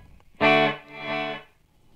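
A guitar note played through a Walrus Audio Descent reverb pedal with pre-delay set up swells in, then a delayed washy reflection returns and fades, all within two seconds with no talking.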